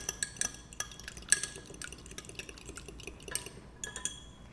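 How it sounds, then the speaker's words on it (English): An egg is whisked with a fork in a dish, giving a quick run of light clinking taps and wet splashy strokes, close and fairly soft, with no voice. "And then I'll go ahead and break up that egg."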